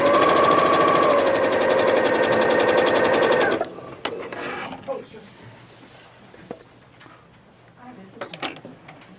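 A sewing machine stitching a quilt block seam, a rapid, steady, close mechanical whir of stitching for about three and a half seconds, then stopping, followed by quieter clicks, handling noises and faint speech.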